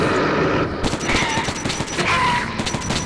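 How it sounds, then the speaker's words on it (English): Repeated muffled shots from a silenced rifle in the video game Metro 2033 arrive in quick bursts over dense, rumbling game ambience, with loud crackling impacts and no speech. "the silenced rifle works really well"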